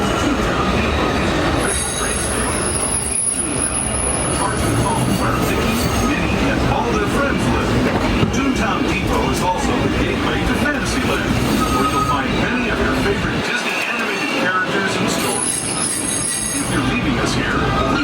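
Disneyland Railroad train pulled by the Ernest S. Marsh locomotive rolls along loudly and continuously. Its wheels squeal in high sustained tones as the cars rumble and clatter, with some talk audible at times.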